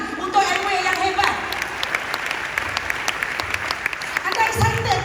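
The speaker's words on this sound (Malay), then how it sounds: "Satu tepukan untuk Amway yang hebat." An audience at an Amway business talk claps for the company, a steady patter of applause running under amplified talk and background music in a large hall.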